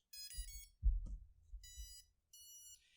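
A Mamba F722 drone flight controller plays short, high electronic startup beeps in a few separate bursts as a LiPo battery is plugged in, with a low thump and soft rumble between them.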